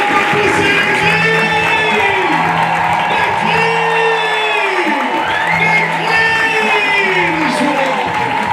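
A church congregation cheers and acclaims loudly and continuously, with voices rising in sustained shouts and whoops as a dense crowd swell during a worship service.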